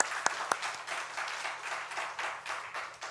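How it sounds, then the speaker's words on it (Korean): A church congregation at a Sunday service claps together, producing steady, full applause that fills the room for the whole stretch, with a few sharper individual claps at the start. "우리 하나님께 영광의 박수 올려드리겠습니다"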